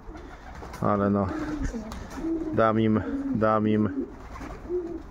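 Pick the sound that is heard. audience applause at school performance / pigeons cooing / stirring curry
pigeons cooing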